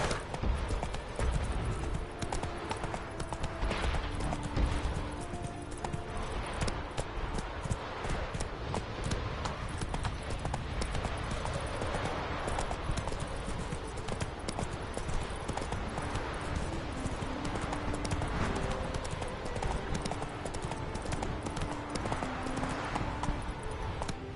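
Hoofbeats of Roach, a horse in a video game, clip-clopping in a steady, continuous rhythm at close range, moderately loud and unbroken, with faint ambient sound underneath.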